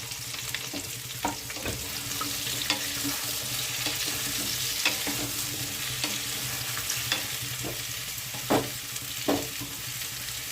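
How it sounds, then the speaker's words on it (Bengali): Papaya, green banana, ridge gourd and potato frying in oil in a wok over low flame: a steady close sizzle with scattered crackles and occasional stirring scrapes. "সেই তেলে পেঁপে, কাঁচকলা, ঝিঙে, আলু সব ভেজে নিচ্ছি"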